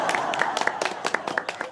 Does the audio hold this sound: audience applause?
yes